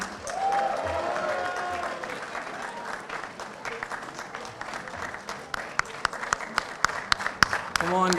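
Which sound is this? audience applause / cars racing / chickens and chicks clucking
audience applause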